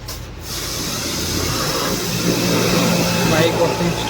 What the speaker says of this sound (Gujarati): આપણી બાઇક વોશ થવાનું ચાલુ થઈ ગયું છે.